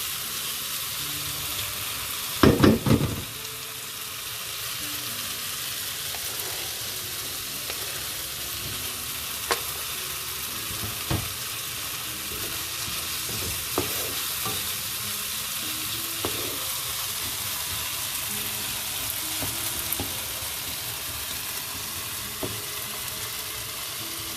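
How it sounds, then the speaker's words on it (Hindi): Vegetables with frozen baby peas and corn sauté in a hot pan: a steady close sizzle runs throughout, broken by an early clatter and occasional sharp taps of stirring, with no talking. "एक से 2 मिनट इसको सब्जियों को सौटे कर लेना है"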